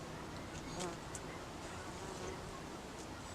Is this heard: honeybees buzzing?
yes